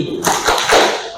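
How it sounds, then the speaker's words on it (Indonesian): Schoolchildren in a classroom clap during a concentration clapping chant, with a few sharp, close claps in a brief burst. "Ayo, tepuk konsentrasi."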